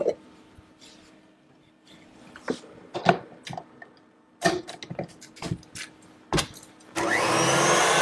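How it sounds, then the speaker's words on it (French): An electric mixer whips a brownie-and-chocolate tiramisu preparation in a kitchen; scattered clinks and knocks of handling come first, then the mixer whirs loudly for the final second. "on va terminer donc de monter la préparation au batteur"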